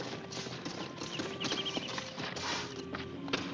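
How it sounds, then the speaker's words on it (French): Horses' hooves clip-clop steadily across hard ground alongside faint whinnies, with a busy, close outdoor bustle running under it throughout. "Attachez les chevaux!"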